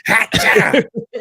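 A single sharp sneeze bursts out close by, followed by short throaty bits of breath and a voice starting to speak.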